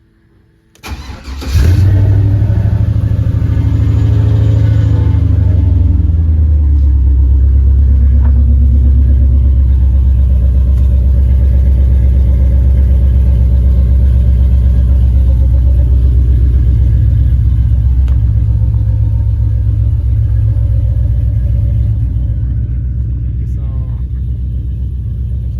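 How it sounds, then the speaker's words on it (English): A 1987 Monte Carlo SS fresh off the battery charger cold starts with a quick crank and catch, then settles into a loud, steady low-pitched idle that holds to the end. "All right, let's cold start this guy."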